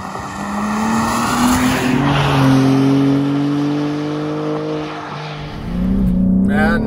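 A BMW M4 with the S58 engine on PS4S tires pulls hard, its engine droning loud and close with rising and shifting tones and a possible tire squeal under it.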